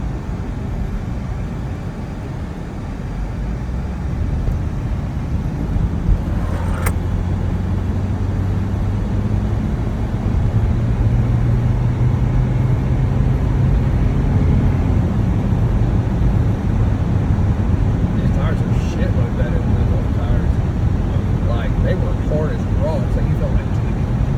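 A 2003 Honda CR-V with new brake pads slows to a stop from 20 mph, a continuous low road rumble and cabin noise with a falling whine as it decelerates and people talking over it.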